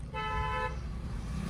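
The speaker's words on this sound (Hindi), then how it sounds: "एक लॉन्ग हॉर्न प्रेस करना और राइट का सिग्नल दो" A car horn sounds one steady honk lasting under a second, close and clear over low road and engine rumble from inside the moving car.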